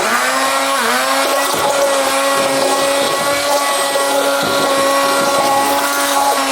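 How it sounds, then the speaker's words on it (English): A stick blender hums steadily and loudly at a constant high pitch in soup, running continuously with slight wobbles as it churns while hot broth is slowly added. "While the stick blender is working, you're slowly adding hot broth"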